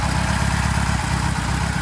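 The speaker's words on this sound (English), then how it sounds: "you can see the car's idling mint, absolutely perfect" A Ford RS Turbo engine idles steadily close by, a low even rumble with a regular pulsing beat.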